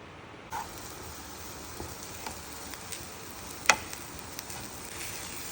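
Grated coconut and curry leaves roasting in a pan make a soft, steady sizzle with occasional light scrapes and one brief sharper clink, fairly quiet and close.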